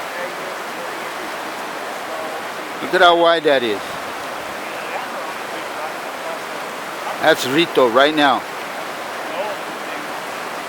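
The flooded Rito creek rushes in a steady, loud, broadband roar that fills the whole scene, while someone talks over it in two short bursts.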